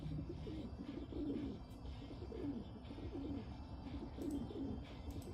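Pigeons coo in a steady, soft repeating pattern in a city scene from the video game Dreamfall Chapters, several birds murmuring close by over a low ambient hum, with a few faint chirps.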